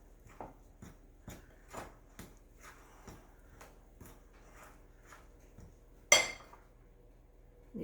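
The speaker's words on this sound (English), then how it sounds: "Just using a fork, stirring in the milk mixture to moisten all of the ingredients." A fork scrapes and clinks against a bowl while stirring a milk mixture into baking powder biscuit dough, in a series of soft, regular taps, with one louder clatter near the end.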